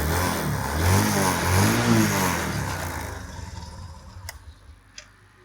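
Second-hand motorcycle engine revved hard at a used bike dealer to show pickup, a loud rising-and-falling roar for about three seconds that then drops to a quieter idle with a couple of sharp clicks.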